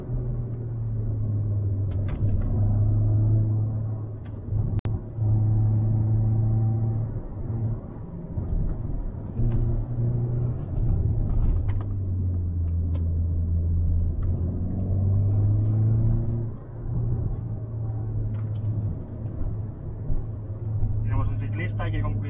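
Sports car driving on a winding mountain road, a steady low engine drone that rises and falls with throttle and gear changes, heard from inside the car.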